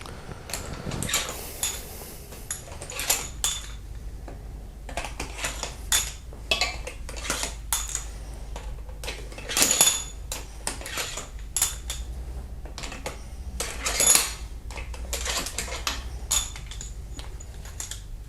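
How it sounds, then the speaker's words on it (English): Metallic clinks and rattles of bolts being pulled from a Kia Optima cylinder head during head gasket replacement, scattered close taps and clanks of metal on metal at uneven intervals, fairly quiet, no talking. "now you can just go ahead and pull all other bolts out as well."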